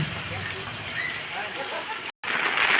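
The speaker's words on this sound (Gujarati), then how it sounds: "અને આ વરસાદ" Steady heavy monsoon rain in Methala patters densely across surfaces, a continuous broadband hiss with a brief dropout near the end before resuming just as strong.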